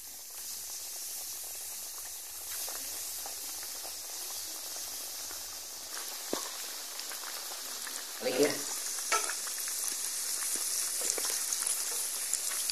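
Battered jengkol pieces sizzle and crackle in hot oil, a steady bright hiss with a brief bubbling surge as more drops in.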